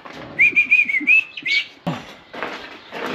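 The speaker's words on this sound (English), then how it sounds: "Major Mitchell Cockatoo. Pink and white." A pink-and-white Major Mitchell's cockatoo whistles a bright, wavering tune in several close, clear bursts, followed by a few rougher squawk-like sounds, alone without talk.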